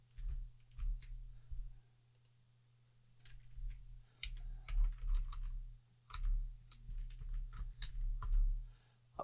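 Irregular bursts of light clicking keystrokes come from a computer keyboard being typed on, close and fairly quiet, with short pauses between the flurries and no one talking.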